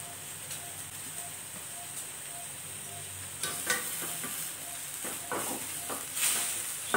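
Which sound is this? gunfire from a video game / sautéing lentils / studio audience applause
sautéing lentils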